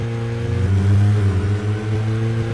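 A car engine while driving in the game Deadly Premonition, a steady mid-pitched hum that swells as it revs and then settles, heard close and continuous with no voices.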